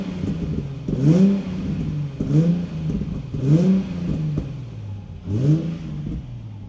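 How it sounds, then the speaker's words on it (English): A Nissan 350Z engine with an aftermarket exhaust revs four times from a steady idle, each throttle blip rising sharply and falling back, close and clear with no talking. "Let's give it a little more of a rev and see what she sounds like."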